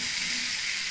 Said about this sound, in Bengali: এবার আমি ফুলকপিটা দিয়ে দেবো।